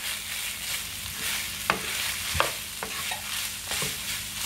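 Ketchup being mixed into the garbage bread filling in a pan, giving steady scraping stirs with a few sharp spoon taps against the pan over a low background sizzle.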